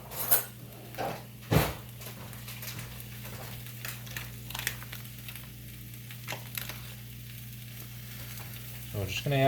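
Salted butter sizzling with mushrooms in a pan while making carbonara, a soft steady fizz broken by a few sharp clinks of a utensil against the pan, faint and close.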